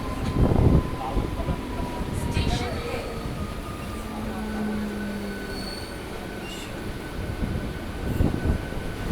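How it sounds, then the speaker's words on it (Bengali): From aboard a Howrah–Bandel local train, an express train rushes past on the adjacent track, a continuous roar with wheel squeal and rattling, near and steady, with occasional brief voices. "express train versus local train passing হচ্ছে"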